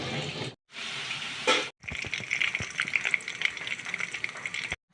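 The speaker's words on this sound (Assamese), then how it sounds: "এয়া মাছ ভাজিছোঁ" Fish sizzling in a pan of hot oil in a home kitchen, a steady close crackle and hiss after a couple of short breaks at the start, with no talking.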